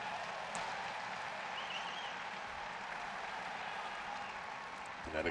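Tennis crowd applauding at the 2013 US Open semifinal between Victoria Azarenka and Flavia Pennetta, steady sustained clapping from a large stadium audience, fairly distant and even, with faint commentary underneath.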